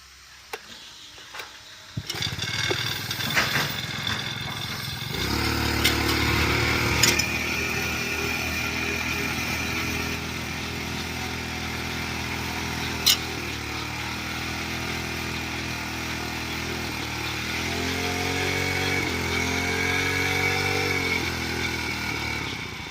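A small engine on a paddy weeder starts up and then runs steadily, close and loud, with a constant buzzing drone and a mechanical rattle.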